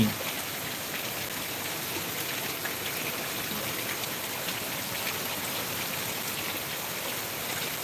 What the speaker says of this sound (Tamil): திருச்சி உறையூரில் தான் ப்ரோ மழை பெஞ்சிட்ருக்கு